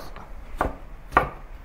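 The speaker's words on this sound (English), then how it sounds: "Rough chop the garlic and shallot." A knife rough-chops garlic and shallot on a board, giving two sharp, close thuds about half a second apart over a quiet background.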